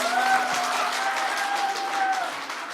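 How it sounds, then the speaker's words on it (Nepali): Wedding guests at a Nepali Christian wedding clap together in a sustained round of applause, with a steady voice or tone running over the clapping. "हामी अझै ठुलो ताली बजाउनेछौँ"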